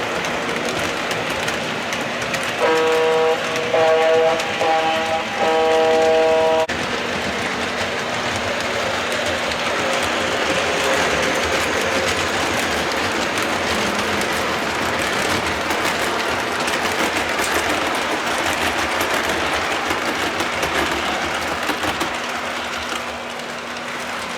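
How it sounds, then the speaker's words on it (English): A Milwaukee Road train rumbles steadily along the rails with a continuous clatter and hum, joined early on by a brief tonal horn-like chord; no voices. "Train is rolling."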